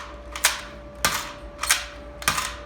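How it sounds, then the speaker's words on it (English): Nerf Accustrike Quadrant toy blaster primed and fired four times, each a sharp plasticky snap spaced about half a second apart, close and clear with a faint steady hum underneath. "this is the prime handle to prime the blaster. Pull back and let go and fire."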